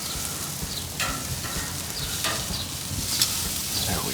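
Chicken wings sizzle steadily on a grill as they are flipped, with a continuous close frying hiss and a few sharp clicks of tongs against the grate, no talking.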